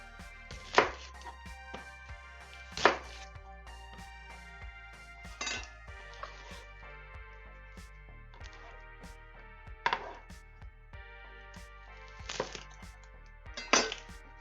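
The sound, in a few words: chopping an onion with a knife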